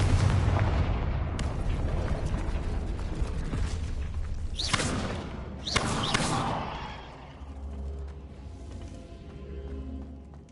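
Confringo fire spells burst in Hogwarts Legacy, heard as a dense rumbling roar with a couple of sharp blasts mid-way, then fading into quieter crackling game ambience.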